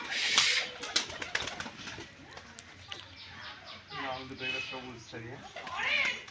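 Giribaz pigeons playing on the ground at a friend's house coo in soft, repeated rounds, with someone talking over them and other voices nearby.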